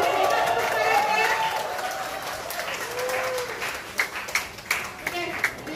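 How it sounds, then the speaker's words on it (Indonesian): An audience claps together at an indoor gathering, a steady wash of applause that runs throughout, with voices talking over it and a few sharper claps standing out near the end. "Boleh kita tepuk tangannya?"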